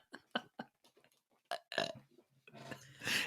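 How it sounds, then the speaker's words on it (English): A boy lets out a burp in a 1995 film scene, heard among short voiced bursts and a louder rasping belch near the end, fairly quiet overall. "You got me with the belch."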